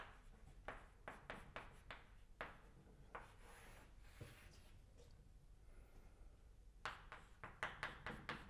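Chalk or pen scratching out an equation on a board during a physics lecture: faint, rhythmic strokes and taps in quick clusters, separated by brief pauses, with no talking.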